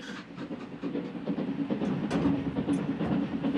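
A PLM steam train rolls along the railway with a steady rumble and rhythmic clickety-clack of wheels on rail joints, heard from inside at moderate level.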